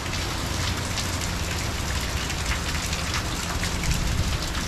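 Hurricane Francine, a Category 2 storm, drives rain and wind outdoors into a loud, steady wash of hissing rainfall over a deep low rumble, constant throughout with no talking.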